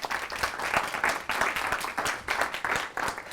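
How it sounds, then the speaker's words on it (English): Audience applauding volunteer actors at a workshop session, a moderate crowd clapping in uneven pulses, fairly soft and somewhat distant. "So please give those actors a round of applause"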